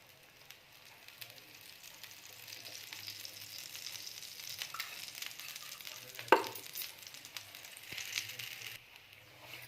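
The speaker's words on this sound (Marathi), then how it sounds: "आता थोडं मध्यम आचेवर आपण होऊ देणार आहोत आणि तेल सोडणार आहे आजूबाजूने।" Masala dosa batter cooking on a hot pan over medium heat with oil drizzled around the edges, giving a steady close sizzle and crackle with faint scraping and one sharp clink partway through.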